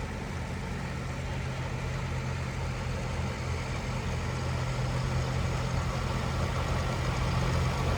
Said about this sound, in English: Now we got Mark Daughtery from Elizabeth with an Alice Chalmers 170, 1967, a good year.